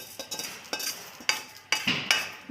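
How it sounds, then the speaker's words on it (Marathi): Dry fruits roasting in a little ghee in a wok, with short scraping and stirring sounds repeating in bursts over a faint sizzle, close by and fairly soft. "याच कढईमध्ये आपण जो सुका मेवा आपण तयार केलेला आहे, अगदी थोड्या तुपात तो छान लालसर भाजून घ्यायचा आहे।"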